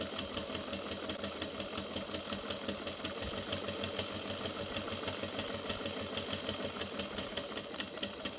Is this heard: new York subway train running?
no